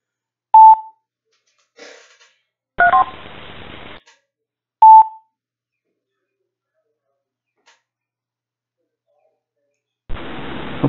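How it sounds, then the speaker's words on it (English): A radio or telephone gives off short electronic beeps on an emergency communications net: two bright tone bursts a few seconds apart, mixed with brief bursts of static hiss, separated by silence. "I'm going to let it beep again."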